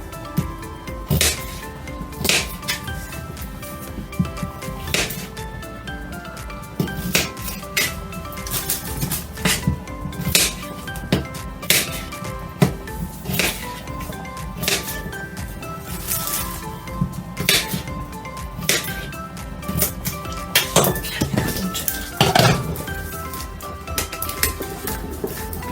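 A knife chopping potatoes on a cutting board, with a steady run of sharp, close taps and clicks over background music, no talk.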